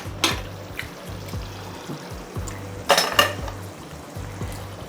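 A lid is lifted off a pot of mutton masala gravy: a few sharp metallic clanks and scrapes, one near the start and a pair later, over a faint low simmer.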